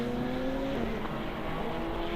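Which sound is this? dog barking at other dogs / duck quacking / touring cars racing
touring cars racing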